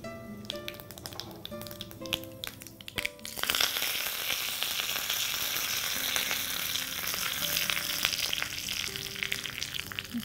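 Mustard seeds, fenugreek and curry leaves hit hot ghee in a small tempering pan, scattered taps and pops giving way to a loud, dense, continuous sizzle that holds close and steady to the end.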